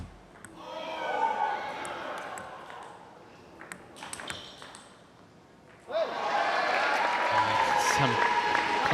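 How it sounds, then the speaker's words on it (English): Crowd noise swells in a sports arena during a rally in a Carolina vs. Florida East Division match, with sharp pings and thuds of play, then a loud sustained roar and cheering after a lull. "plenty of noise from the crowd in the middle of that rally there."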